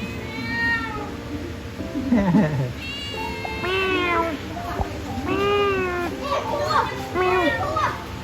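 A kitten meows repeatedly in high, wavering cries, close and fairly loud, mixed with children's excited voices around it.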